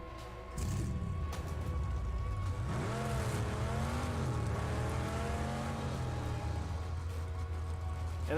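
A car engine idling and running steadily in the Mad Max video game, a continuous low drone with a rising and falling revving tone partway through, close and sustained.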